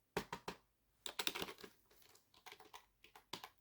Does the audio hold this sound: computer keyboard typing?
yes